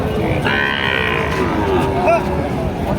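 A young Sahiwal calf gives a drawn-out moo nearby on a cattle farm, with background chatter and noise around it.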